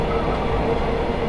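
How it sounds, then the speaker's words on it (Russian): An ED9M electric train descends a steep grade toward Derevyanka station, heard from the cab as a loud, steady rumble of wheels and running gear with no talking. "Сейчас мы спускаемся с руководящего подъема на станцию Деревянка, то есть со стороны Петрозаводска на Свирь."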